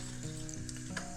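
Mustard seeds sizzle and crackle in hot oil while tempering spices for a bajra khichda, a steady close frying hiss with a few sharper pops and no voices.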